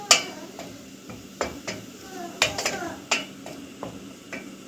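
A spoon stirring syrup in a cooking pot for saffron and rosewater kachi, with a series of sharp metallic taps and scrapes against the pot at an uneven rhythm, close and fairly clear.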